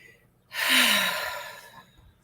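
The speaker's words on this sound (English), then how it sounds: "Take a couple of deep breaths." A single deep breath, drawn in and let out slowly as a long, airy sigh during a calm meditation, close to the microphone and with no speech.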